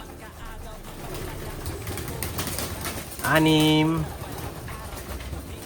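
Pigeons coo nearby in a single clear drawn-out call, heard under someone speaking in Filipino amid soft background noise.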